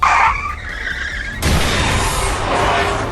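Car skidding on a rain-wet road before plunging into a pond, a sharp tire squeal up front followed by a sudden loud burst of harsh, broadband noise that carries on noisily, close and intense.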